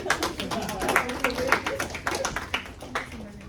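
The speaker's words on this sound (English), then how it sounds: "clap it up for me real quick. Clap it up for me." Students at Fort Hayes clap in a quick, even rhythm during a presentation, a string of fairly faint, sharp claps with some quiet voices mixed in.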